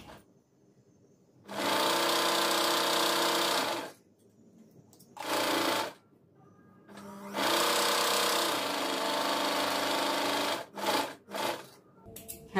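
Sewing machine stitching a blouse sleeve in bursts: a run of about two and a half seconds, a short one, a longer four-second run, then a few quick spurts, close and loud with quiet gaps between.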